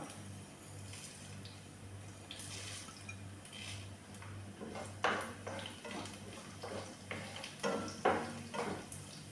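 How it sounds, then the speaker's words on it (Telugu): Peanuts, mustard seeds and cumin frying in hot oil in a pan: a steady low sizzle under intermittent scraping and clinking strokes from stirring, soft and close. "తర్వాత జీలకర్ర, ఇలా వేసుకొని 2 నిమిషాలు ఫ్రై చేసుకోండి ఫ్రెండ్స్."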